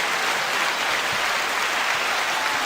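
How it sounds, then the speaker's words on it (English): A dense, even roar of applause for the Marine Corps and armed services fills the space, steady and fairly loud without a break, with no talk over it. "you deserve a round of applause."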